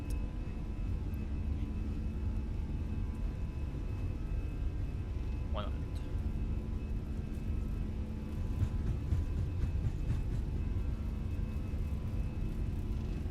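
Airliner jet engines in a flight simulator hold a steady, loud broadband roar with a low rumble and a faint high whine, building slightly toward the end of the takeoff run.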